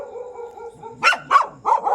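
A street dog barks three sharp times in quick succession, loud and close, after a moment of low whining or murmuring.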